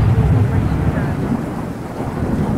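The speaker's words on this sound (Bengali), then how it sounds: "মেঘ ডাকছে গুড়গুড় করে" Thunder rumbling during a storm with lightning: a deep, continuous low roll that stays fairly loud for a couple of seconds, with a faint hiss of rain underneath.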